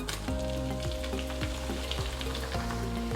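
Tomatoes frying with softened onions in a pan for spicy chicken sukka, a dense continuous sizzle with rhythmic stirring strokes, close and fairly loud, no voices.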